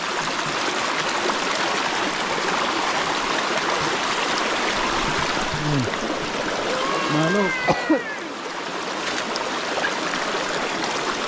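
A forest stream rushes steadily along a nature trail toward Tad Mok waterfall, a constant close wash of flowing water with a few brief voices heard over it.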